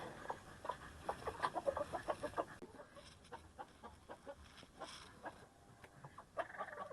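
Several chickens cluck and squawk nearby in short, irregular bursts, some louder calls standing out against a quiet outdoor background.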